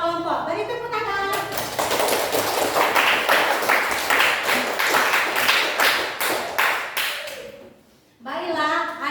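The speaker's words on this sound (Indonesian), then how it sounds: "Beri tepuk tangan" A class of students applauds their groups after presentations, with a lively round of clapping that swells and then fades out. A teacher's and children's voices are heard before and after the applause.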